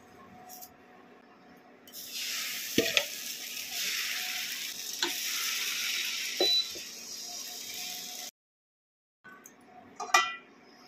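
Thin biuli lentil chakli pitha sizzle steadily in a hot pan, with occasional utensil clinks and taps; the frying stops briefly, then resumes softly.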